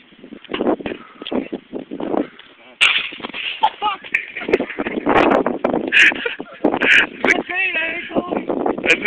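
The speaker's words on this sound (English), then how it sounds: "gonna attempt to light a firework. First firework ever." A first-ever firecracker lit for a Fourth of July celebration goes off with a sudden loud burst, followed by several sharp crackling pops amid excited talking and laughter.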